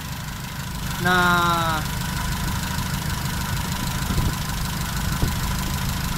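A car engine with oil spurting from the dipstick idles steadily with a low, even rumble; a brief tonal whine and a short spoken word appear near the start.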